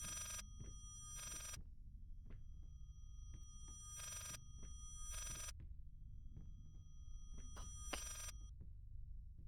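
A telephone rings inside a horror video game, its bell sounding in several separate bursts spaced by pauses over low, dull background rumble and scattered thumps, with no talk.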